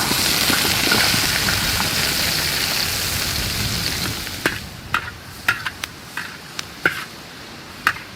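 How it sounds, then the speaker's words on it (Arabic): Mushrooms sizzle in hot oil in a pan being made as a pizza topping, a steady broad frying hiss for about four seconds, then quieter crackle broken by sharp stirring scrapes and clicks. "هسه راح اقلي الفطار. اضيف الزيت،"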